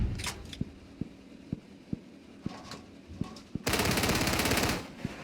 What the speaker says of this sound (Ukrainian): Як мені подобається ця гарматка?